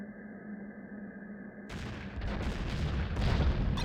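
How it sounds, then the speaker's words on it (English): Heavy anti-aircraft ground fire in the Falcon 4 Allied Force flight sim, a steady engine drone first, then a dense wall of booming bursts and crackling gunfire that grows louder and rumbles continuously to the end. "Oh, what a ground fire."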